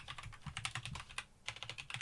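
Quick, uneven taps on a computer keyboard, close and fairly quiet, arriving in short bursts with a brief pause partway through.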